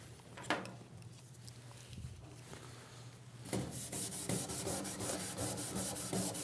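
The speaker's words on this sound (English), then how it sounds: "For the first demo, I'd like to use just a regular hand pad to clean the weld." A hand pad scrubs back and forth over a TIG weld on stainless steel, a faint steady rubbing that grows louder and more vigorous partway through, with no voices.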